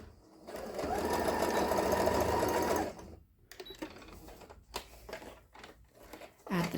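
A sewing machine back-stitches a scrap fabric scrunchie keychain. It runs in a steady buzzing whir for about two seconds, then stops, followed by soft handling and fabric rustling up close.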